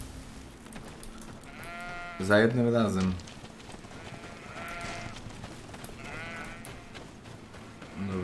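Rams bleat in GreedFall, one loud close bleat standing out among fainter bleats further off, over a soft rain-like game ambience while someone speaks briefly.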